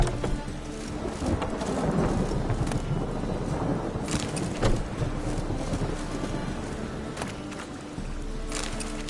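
Steady rain patters over a low background rumble of thunder, with a few sharp crackling bursts standing out amid the continuous downpour.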